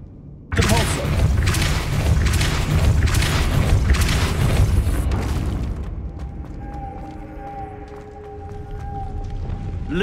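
A Depulso spell is cast in the Hogwarts Legacy video game, a sudden loud forceful whoosh and boom that rumbles for several seconds before fading into quieter game ambience with a faint tonal hum.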